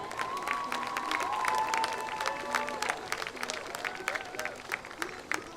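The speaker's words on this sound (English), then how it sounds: "one final applause for our varsity senior cheer" Crowd applause and scattered cheering at a high school senior night honoring varsity senior cheerleaders at a football game, steady and sustained across the stands with faint voices mixed in.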